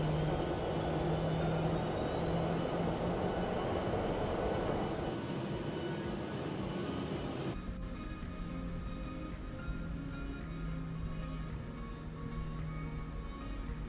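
An airliner in a flight simulator game rolls down the runway: a loud, steady engine roar with a rising whine builds for several seconds, then cuts abruptly to a quieter, lower cockpit hum with faint ticking.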